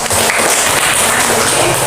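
Audience applause in an Indonesian classroom lesson, loud dense clapping from many hands, steady and close throughout the short stretch with no talk over it.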